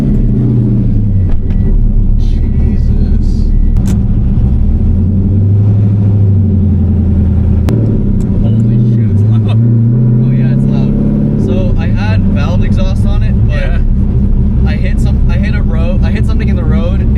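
A 500-horsepower LS V8 swapped into a Subaru BRZ, its exhaust broken and dragging, rumbles loud and close while it revs and surges throughout, with voices talking over it.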